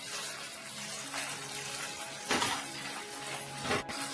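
A small amount of water is poured into a bowl of ground spices, chili and cumin, for an Odia fish curry. The pour is a soft, steady trickle with a couple of louder splashes near the end. There is no talking.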